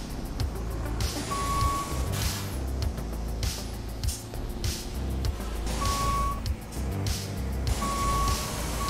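A fire truck, Tower Ladder 68, in the EmergeNYC game on a Manhattan street, sounds three separate reversing beeps. They ring out over a steady engine rumble with traffic-like noise around it.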